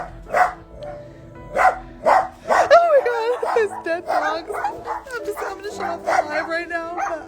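Dogs at a hoarding rescue yip, whimper and give short barks in a series of close, whining cries, while a person speaks over them.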